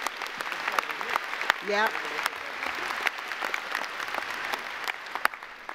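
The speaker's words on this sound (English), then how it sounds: "Please give a round of applause" A commencement audience for a university school of engineering applauds steadily for nearly six seconds, a dense, sustained wash of clapping with a brief spoken word and a short whistle-like cry near the start.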